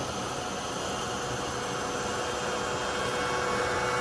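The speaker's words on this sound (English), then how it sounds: "We're gonna try out the vacuum and see if it works to get the little particles." Small Temu vacuum cleaner running with a steady, dense whooshing whine that holds evenly throughout, close and moderately loud with no talking.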